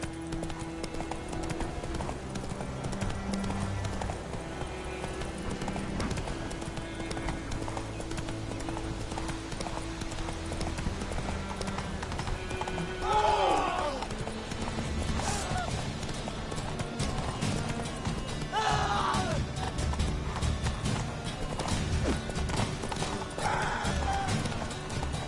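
Roach gallops with rhythmic clip-clopping hooves over a steady game soundscape, the horse snorting or whinnying now and then, and brief voices rising over it a few times.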